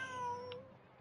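A single short, clear cat meow from a character in the game Genshin Impact, a rising then falling tonal cry, close and alone.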